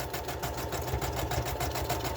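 A sewing machine runs continuously while stitching around the edges of fabric on a scrap-collage journal cover, a close, steady, fast rhythmic chatter of the needle without pause.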